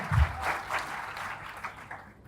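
Audience applause at a motivational speech, a short burst of clapping that fades quickly into a softer, diffuse patter over about two seconds.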